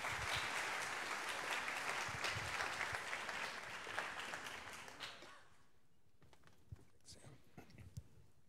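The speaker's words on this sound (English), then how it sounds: "if you guys could just give a quick round of applause for Dr. Tristan Johnson." An audience in Blackman Auditorium at a College of Engineering graduate orientation claps in a loud, dense burst of applause that fades out after about five seconds, leaving quiet room noise with a few scattered claps and light movement.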